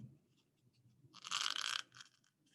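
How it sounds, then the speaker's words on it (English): Scissors or a blade slitting a cardboard egg carton: a short, close crunchy tearing burst in a quiet room, then a few fainter snips. "So I'm going to cut a slit down."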